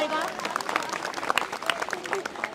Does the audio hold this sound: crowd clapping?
yes